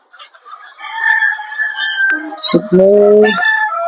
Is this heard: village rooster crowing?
yes